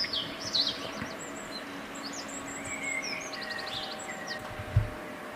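Birds chirp and trill as ambient scenery for a tabletop game, with scattered high calls over a quiet background hiss and a brief low thump near the end.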